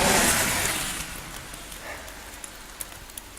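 Rain from a rainstorm falls steadily around a Chevy K1500 truck, a broad soft hiss that starts loud and gradually eases, with a few scattered drip taps toward the end.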